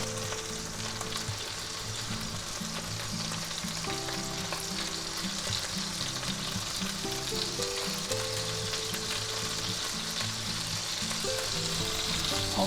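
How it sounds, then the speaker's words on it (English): A London broil steak sizzles steadily in a pan while being basted with rosemary butter, a loud, close, continuous fry with light clinks and scrapes, no voices. "Let's go ahead and baste this side with butter."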